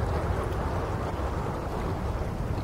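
Steady, dense wind roars without a break through an underwater game setting in SOMA, a continuous low rushing whoosh at even loudness with no speech.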